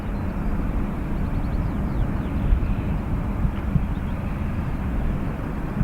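An Airbus A321neo arriving at Dublin Airport gives a continuous deep roar of jet engines that holds steady and fairly loud throughout, with no voices over it.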